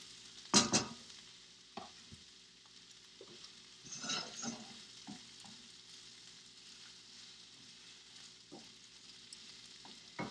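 Mushrooms fry in a pan with a steady soft sizzle, broken by a few sharp scraping stirs near the start and the middle, up close with no talking.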